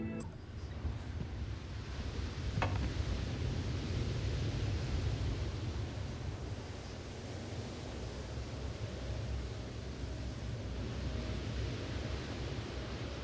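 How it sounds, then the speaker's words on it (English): Steady broadband noise hiss from the video game Prey (2017), a continuous wash like static or surf that holds evenly throughout, with no speech over it. "I'm not a good enough audio engineer to know if that really is white noise or one of the other colours of noise that you can make"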